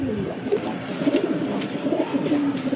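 A male-female pair of Kalanka pigeons cooing close by, soft low repeated coos in short bursts over a light background murmur.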